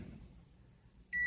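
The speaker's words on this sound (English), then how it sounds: "Can Alexa microwave a burrito? Alexa, cook for 1 minute." A microwave oven, set by a voice assistant to heat a frozen burrito, gives one short, bright beep after a moment of low room hum.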